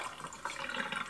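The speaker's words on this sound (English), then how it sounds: "I'm just going to dump that out." Old sugar-water nectar is dumped out of a hummingbird feeder, giving a short, steady splashing pour of liquid, fairly close and continuous for about a second with no talking.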